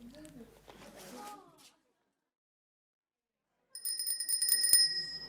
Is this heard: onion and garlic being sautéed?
no